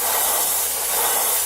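A compressor-fed spray gun sprays paint onto panels, giving a steady, unbroken hiss that holds even throughout with no voices.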